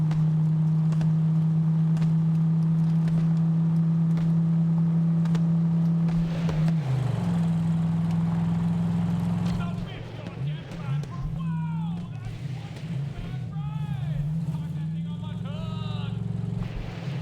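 A steady car engine drone from the video game Borderlands 3 holds for several seconds, then shifts and revs unevenly, with chirpy game effects and faint voices over the hum.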